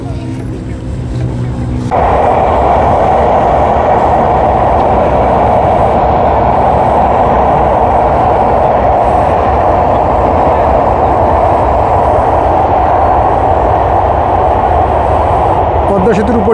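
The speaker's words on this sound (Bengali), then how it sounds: "দিয়ে ট্রেন যাচ্ছে" A train rolls across the Padma Bridge over the Padma River, heard from a houseboat below: a loud, sustained rumble and rattle of wagons that swells in after a couple of seconds and continues steadily, with engine-like droning underneath.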